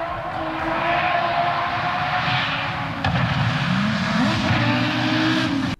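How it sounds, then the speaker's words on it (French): Audi Quattro rally car with its turbocharged engine roars past loudly, the pitch climbing as it accelerates, with a sharp transient midway and a steady rasping drone throughout. "If I have some emotion, of course it's the noise of the Quattro."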